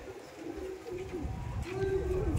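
Tournament flying pigeons coo softly at close range in a few soft, low, rolling phrases, with a faint voice talking in the background.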